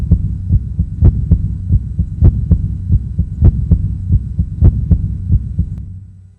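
A deep, resonant heartbeat sound effect thumps in a steady, slightly uneven rhythm over a low hum, loud and close, with no speech.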